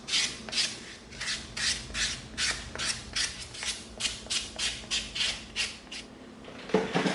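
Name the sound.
sanding EVA foam with 220 sanding stick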